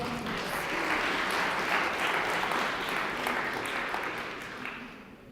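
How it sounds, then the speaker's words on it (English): Audience applause fills a hardware and IoT startup pitch event, a dense steady clapping close by that fades slightly near the end. "give her a huge round of applause"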